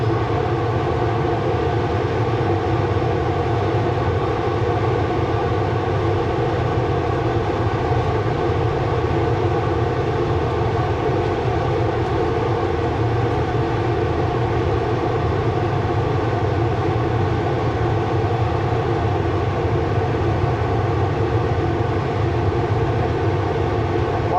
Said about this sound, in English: Upshift the gear here, it's getting less steep and running a little lower RPM.